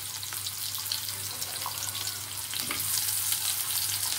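Chopped onion fries in a pan over lowered heat, giving a steady, close sizzle that grows slightly louder toward the end, with a low hum underneath.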